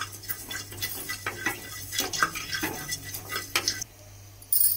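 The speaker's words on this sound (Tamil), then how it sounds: "இப்போ இது நல்லா வெறும் கடாயில நல்லா ப்ரௌனா தீயாம வறுத்துக்கலாம்." Fenugreek seeds dry roasting in an empty kadai for a tomato chutney, with steady scraping and stirring clatter of a utensil against the metal pan, close and moderately loud, with no talking.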